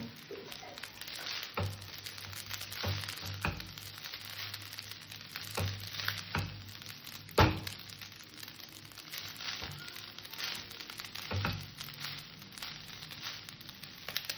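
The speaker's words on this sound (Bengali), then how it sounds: "এইভাবে আমি ভাতটাকে সুন্দর করে একটু" Rice frying in a pan with a steady, close sizzle throughout, broken by occasional louder scrapes and stirring knocks, with no talking.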